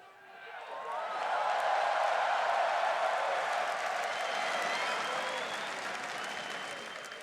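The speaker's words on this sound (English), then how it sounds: "And everybody cheering you here." A large arena crowd at the Air Canada Centre in Toronto roars with sustained applause and cheering after a League of Legends LCS North America summer final game between Team SoloMid and Cloud9, loud and continuous, fading slightly near the end.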